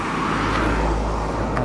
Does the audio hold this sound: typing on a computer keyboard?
no